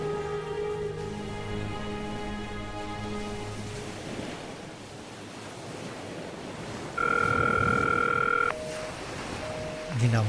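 Electronic telephone tones as a call cuts off, a steady loud beep tone lasting about a second and a half and then short repeated beeps, after a stretch of sustained musical tones and noisy background.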